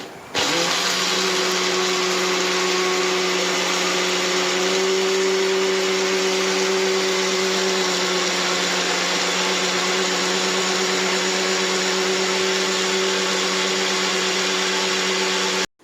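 A kitchen blender whirs continuously while making juice in a home, starting abruptly and running loud and steady with a constant motor hum until it cuts off at the end.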